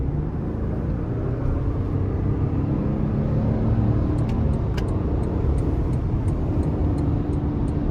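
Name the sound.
2023 Toyota Tundra SR5 3.4 twin-turbo engine accelerating in sport mode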